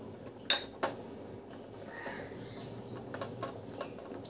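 Chicken and prawns with ground pepper are stirred in a metal pan: two sharp utensil clinks early on, then faint scraping and light taps, quiet overall.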